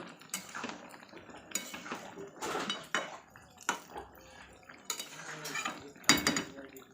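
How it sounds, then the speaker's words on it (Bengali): Meat is stirred and browned in a pot, with irregular scraping and clinking of a metal spoon against the pot in uneven bursts over a faint sizzle. "এই যে এখন মাংসটা কষাচ্ছি আমি"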